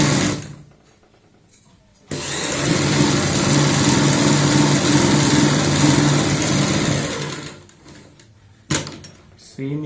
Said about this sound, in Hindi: अब हम आगे की सिलाई कंप्लीट करेंगे।